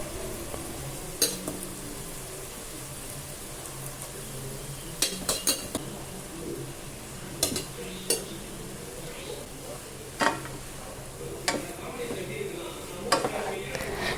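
Paneer fried rice with vegetables being stirred in a pan, with scattered clinks and scrapes of a spoon against the metal over a low background hum, fairly quiet throughout.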